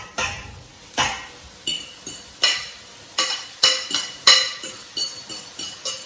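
Lamb mince for Jamaican patties goes into a hot pan, fierce sizzling punctuated by regular loud spoon scrapes and clinks against the pan, up close.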